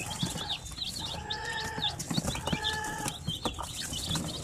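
Native Basilan chickens and chicks on a farm, clucking and calling softly at close range with a few wing flaps and low shuffling, a small flock murmuring without human voices.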